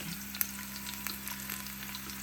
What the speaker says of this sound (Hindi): हमारा तड़का रेडी हो चुका है, हमारे लहसुन भी लाल हो गए थे और बस अभी हम लोग लगाने वाले हैं अपनी गर्मा गर्म दाल को